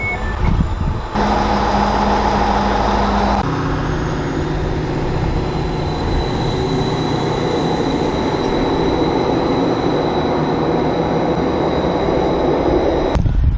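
A train travels the Wherry Lines between Norwich and Great Yarmouth, with a loud, constant interior rumble of wheels on rail, a steady high whine and a shift in tone partway through.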